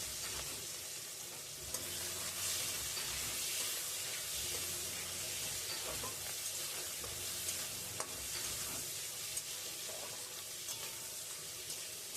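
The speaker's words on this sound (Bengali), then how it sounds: "তেল দিয়ে চিংড়ি মাছটা ভেজে নিচ্ছি।" Shrimp rubbed with salt and turmeric frying in oil in a kadai on a stove, a continuous close sizzle and hiss with faint stirring, quiet and steady throughout.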